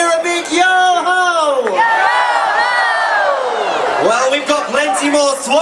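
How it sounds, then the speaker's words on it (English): A crowd of voices shouts a long, drawn-out pirate-style "yo-ho" together at a pirate-themed show, loud and close, with a second group shout rising near the end. "let me hear a big yo-ho!"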